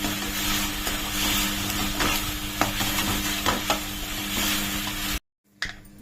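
Chopped green chilies hit hot masala and sizzle loudly and steadily, broken by scraping stir strokes against the pan while making Mughlai chicken, before the sound drops out abruptly near the end and a brief clatter follows.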